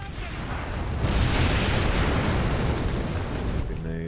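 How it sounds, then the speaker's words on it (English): Grenade explosions in the Warhammer 40K: Space Marine video game, a dense, loud roar of blasts that swells and holds steady for about four seconds before trailing off. "Grenades."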